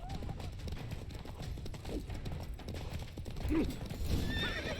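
Geralt's horse Roach in The Witcher 3 galloping with steady clip-clop hoofbeats, then a sharp neigh and whinny near the end, mixed with game sounds and occasional voices.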